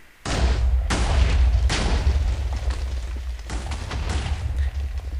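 A TNT cannon in the Minecraft video game fires a rapid burst of heavy booming explosions, loud and close, several blasts following one another over a few seconds.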